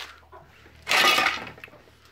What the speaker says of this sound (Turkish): Git bak burada tavuk var.